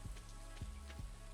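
Steady soft rain from Stardew Valley on a spring day, a faint continuous patter with a few low thumps recurring at a slow, even pace.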